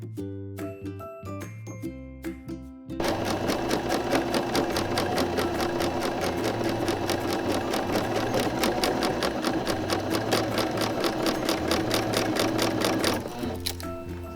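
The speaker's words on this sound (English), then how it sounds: "I just want to keep serging off for a little bit" A serger fitted with a beading foot runs steadily along a beaded hem, giving a loud, fast, even mechanical chatter. The chatter lasts about ten seconds and is framed by a few light clicks and taps before and after.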